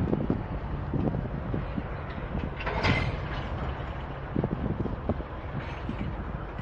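A Norfolk Southern freight train, NS 264, rumbles past close by, with low clanking and rolling noise mixed with gusts of wind against the microphone.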